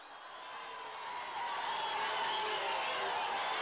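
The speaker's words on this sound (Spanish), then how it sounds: "Un aplauso a Alfredo del Mazo." Crowd applauding for governor Alfredo del Mazo at an outdoor rally in Ixtlahuaca, State of Mexico: a broad, steady wash of clapping from a large gathering swells after the first second and holds, somewhat distant, with no talk over it.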